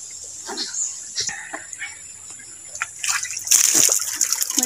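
Water splashes and sloshes as someone bathes outdoors at Tabay, scattered at first and then louder and denser near the end, with occasional voices mixed in.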